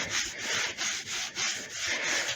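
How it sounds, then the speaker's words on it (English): Fine sanding and polishing with 000-grade synthetic steel wool during electric guitar building: a steady, breathy rubbing hiss in about five back-and-forth strokes with brief dips between them, close and fairly loud, with no talking. "I went further with this synthetic steel wool, which is always a handy thing to have for the purposes of very fine sanding and polishing."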